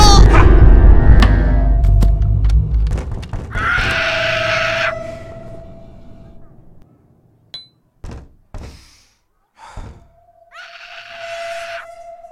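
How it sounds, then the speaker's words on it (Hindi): A child screams in the horror video game Hello Neighbor. Loud, harsh cries come in bursts, mixed with thuds, clunks and a long low groaning tone, then later screaming and droning return after quieter knocks. "अंकल ने एक बच्चे को बंद किया, ये बच्चा चिल्ला रहा है"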